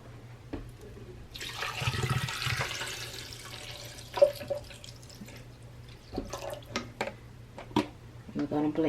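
Water is poured into a blender jar holding chopped carrots for a beet, carrot and orange juice, a splashing stream running for about two seconds at moderate level, followed by a few light knocks and clinks.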